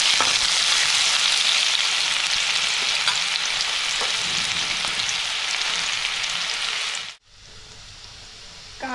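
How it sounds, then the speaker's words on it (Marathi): Onion sautéing in a pan with mustard seeds and a little cumin, a steady dense sizzle with faint stirring scrapes that runs loud and unbroken for about seven seconds, then cuts off abruptly before a brief return at the end. "कांदा परतून घ्यायचा."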